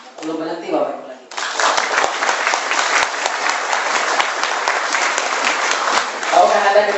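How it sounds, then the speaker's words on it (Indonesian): Brief speech gives way to loud, dense applause from a presentation audience in Jakarta, the clapping continuing steadily for several seconds before a voice returns near the end. "Beri aplaus yang meriah buat Anda."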